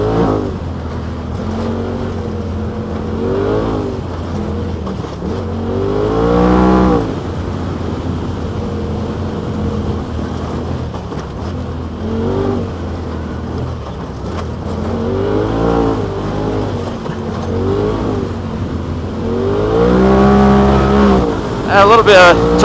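A Polaris RZR XP Turbo side-by-side running E85 fuel, its turbo engine droning and repeatedly revving up through gears in rising sweeps, loud and close throughout over a steady mechanical hum.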